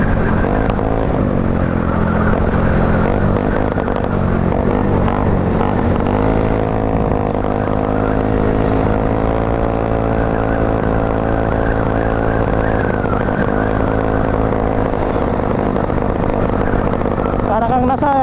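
Honda Mio Soul scooter engine held at high throttle, a loud continuous buzzing drone that shifts pitch slightly, with people talking over it.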